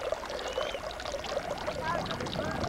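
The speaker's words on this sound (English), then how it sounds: "Pay no attention to that noise you heard of water running." Steady rushing water runs continuously, like a stream or pouring flow, filling the background without pause.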